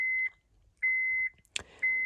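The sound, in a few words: Honda Pilot car beeping after ignition turned on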